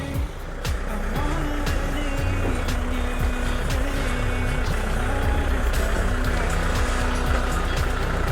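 A Kubota MU4902-B tractor comes down off a truck in rural Chaiyaphum, Thailand, its diesel engine droning steadily and close by with shifting engine pitch and clunks throughout.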